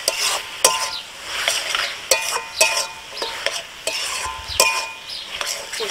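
Taro leaves (kochu shak) fry in a pan with grated coconut while a spatula stirs them. Sharp scraping clicks recur every second or so over a soft, continuous sizzle, close and without voices.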